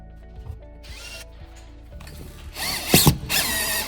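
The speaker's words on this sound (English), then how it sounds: "you're probably gonna have to drill to get them to go in" A power drill whirs in short bursts, spinning up and stopping, then a louder, longer run as a screw is driven in while installing a van inlet, with clicks between.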